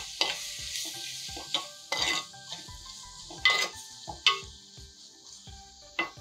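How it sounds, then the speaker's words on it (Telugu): Tomato frying in a pan for a breakfast dish gives a soft, steady sizzle. A spoon stirs and scrapes against the metal in repeated sharp clinks and knocks. "ఇది కాసేపు గోలనివ్వండి."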